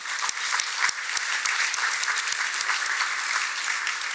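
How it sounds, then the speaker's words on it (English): Applause from a room full of guests at an MS society gala dinner in New York City, dense and steady throughout with crisp individual claps popping out, fairly close. "So round of applause to all of you in this room."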